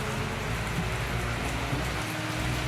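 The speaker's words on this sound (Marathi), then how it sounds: "मस्त पाऊस आला पण" Rain falls steadily on a village during a sudden change of season, a constant close wash of dense patter that holds at an even level without pause.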